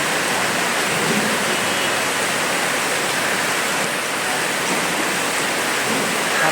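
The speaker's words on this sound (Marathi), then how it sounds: "पाऊस बघा भर पावसात काम चालू आहे" Steady, dense rain roars in a constant wash of noise with no breaks, heavy and close throughout.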